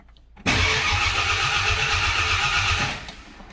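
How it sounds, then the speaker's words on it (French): A 1966 Mercury S55 engine cranks and catches at once, then runs loud and steady with a rough, throbbing idle for over two seconds before the sound drops away. The car has a modified Fairlane exhaust with headers. "Mais bon, petit coup de démarrage."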